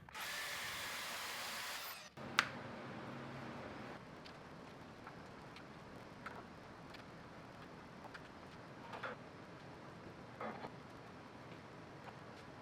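A power tool cuts off the guard of a log splitter. It makes a loud, harsh, steady grind for about two seconds and then stops abruptly, leaving quiet room noise with a few faint clicks and knocks.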